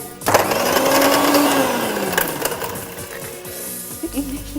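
An electric mixer grinder whirs loudly and close as it grinds nutmeg, a steady motor drone lasting several seconds before it winds down, with a voice faintly heard near the end.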